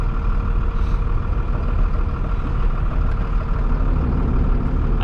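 A second-generation Dodge Cummins diesel pickup rolls down the road, its low engine drone steady and continuous at close range with a broad, constant road rumble underneath and no talking.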